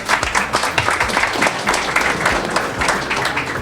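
Audience applause during an interview with a basketball team, dense close clapping from many hands that continues steadily throughout.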